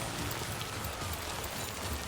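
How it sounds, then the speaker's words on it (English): Steady rain in Death Stranding 2 (timefall) falls as a constant, dense hiss of drops spread evenly across the whole moment, with no voices over it. "We just got the rain started"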